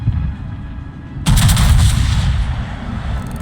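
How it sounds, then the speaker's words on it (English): A warship's guns fire a salvo of shells in a naval video game, a sudden loud booming blast that rolls into sustained rumbling, close and heavy, after a quieter low drone. "Shell dispersion looks very beautiful coming out of the guns"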